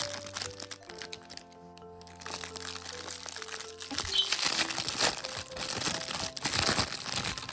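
A gift package sent from Isparta is torn open by hand, its wrapping crinkling and crackling up close, sparse at first and then busier and louder through the second half.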